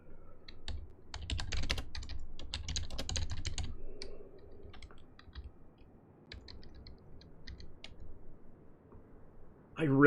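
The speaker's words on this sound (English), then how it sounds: "Type, loud keyboard." Loud computer keyboard typing, a close, clattering run of key clicks in dense bursts that thin into sparser taps before a final louder clack.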